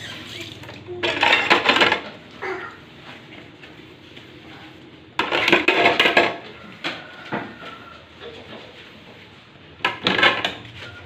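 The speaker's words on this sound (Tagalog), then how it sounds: "Wash muna kayo ng pinggan kasi walang pinggan malinis" Plates and cutlery clatter and scrape in bursts of washing, with quieter rinsing and handling noises between the louder clusters.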